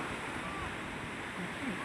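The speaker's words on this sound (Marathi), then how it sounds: "हे बघा एकदम असा समुद्र खवळलेला आहे." Rough, churning sea surf at Puri beach in Odisha, heard as a steady, dense wash of breaking waves that fills the whole clip without a break.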